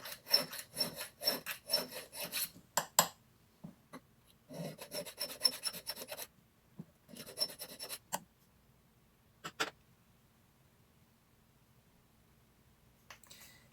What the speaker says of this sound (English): You can see that the edges that I haven't filed yet look more uneven and rougher, so there is more filing to be done.